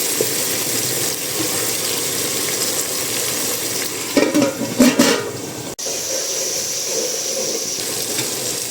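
Onions frying in oil in a home kitchen, a steady close sizzle that runs throughout, with a brief burst of stirring clatter midway and no voices.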